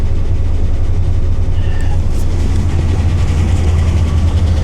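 RAM 1500 pickup truck engine with flood damage running rough, a steady heavy low rumble idling close by with no talk over it.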